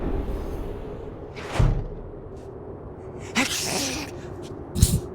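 A single sneeze from a character in the Metal Gear Solid 2 video game, a short loud burst standing alone over a steady low game background hum, with a couple of other brief noises nearby.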